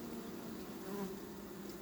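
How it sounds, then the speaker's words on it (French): Honey bees at a beehive make a steady, dense buzzing hum that stays close and constant throughout, with no voices. "il y a encore une abeille avec un varroa phorétique"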